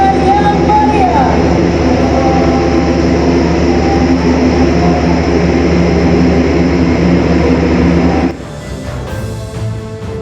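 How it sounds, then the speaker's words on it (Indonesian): An Airbus A400M propeller transport plane roars loudly and steadily as it lands, then the engine noise drops off sharply near the end. "Pesawat angkut berat Airbus A400M disambut dengan prosesi water salute saat mendarat"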